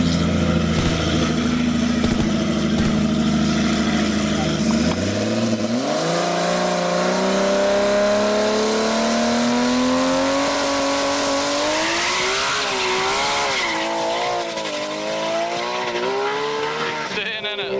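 Drag racing car launching and accelerating hard, engine note climbing steadily through long gear pulls, loud and close, with a faint voice talking underneath.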